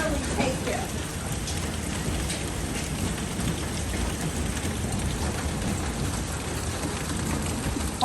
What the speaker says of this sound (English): we're into a 2-minute hailstorm